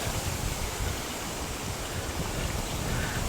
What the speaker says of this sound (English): Just hear some water here in the ditch on the right.